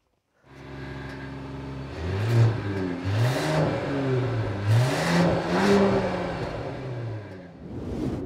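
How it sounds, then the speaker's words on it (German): A Mercedes CLE Cabriolet's six-cylinder engine revs up repeatedly from idle, its exhaust rising and falling in several loud, throaty bursts before settling. "was hier beim Sechszylinder hinten an Sound rauskommt"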